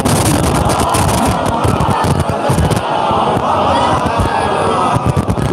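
A crowd at a religious gathering celebrating Jashn-e-Khatoon-e-Jannat in Jarwal Kasba loudly shouts the Takbir slogan in unison, a dense, sustained roar of many voices close by.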